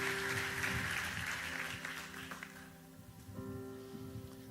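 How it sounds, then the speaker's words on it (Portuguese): Church congregation applauding at a Sunday morning service: a brief burst of dense clapping that fades out over a few seconds, fairly faint, with organ or keyboard tones sustaining underneath. "Dê um aplauso bem forte a Deus."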